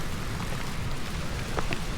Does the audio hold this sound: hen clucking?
no